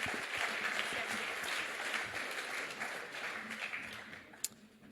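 An audience at a conference round table applauds, a dense, steady wash of clapping that slowly thins out toward the end.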